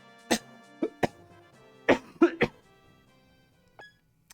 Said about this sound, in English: Yeah, I'm still coughing though.